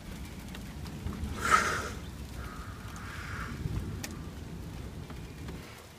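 Heavy rain falls steadily during a severe summer thunderstorm in Newburyport, Massachusetts, with a couple of brief, sharper bursts of noise rising above the constant patter at a moderate distance.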